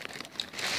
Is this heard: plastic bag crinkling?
yes